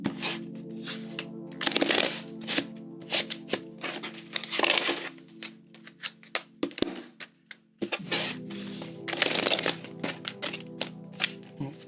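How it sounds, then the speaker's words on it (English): Tarot cards being shuffled by hand: repeated bursts of riffling, crinkly card noise over about twelve seconds, with short pauses between rounds and no talking. "It's hit or miss with me shuffling these cards some days."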